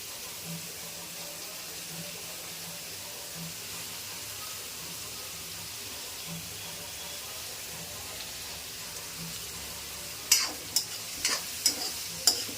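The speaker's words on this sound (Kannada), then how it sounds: "ಚೆನ್ನಾಗಿ ಸ್ವಲ್ಪ ಫ್ರೈ ಮಾಡ್ಕೋಬೇಕು ಲೈಟಾಗಿ." Onion and capsicum fry lightly in a pan, a faint low sizzle running steadily under a soft background hum, followed near the end by a few sharp clattering stirs.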